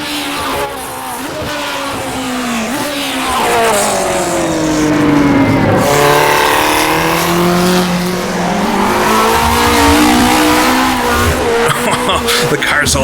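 A 1960s Formula One car in the racing simulator rFactor 2 drones loudly and continuously, its engine pitch rising and falling through gear changes under hard acceleration and cornering, with tire noise and no pauses.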